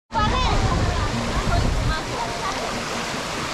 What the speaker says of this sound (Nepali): हाम्रो बेल्दोबान झरना भनेको चाहिँ यही झरना हो।